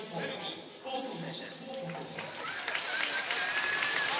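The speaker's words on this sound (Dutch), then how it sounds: "En u hoort al applaus rondom" Audience applause rises and falls in the arena at the 2011 gymnastics world championships in Tokyo while a commentator speaks over it, clapping swelling louder toward the end.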